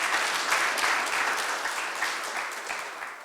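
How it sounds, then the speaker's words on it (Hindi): Applause from a church audience during a sermon, a dense, steady wash of many hands clapping together for the full stretch, moderately loud and close, with no voices over it. "क्यों नहीं उसके लिए ताली बजाए हम लोग"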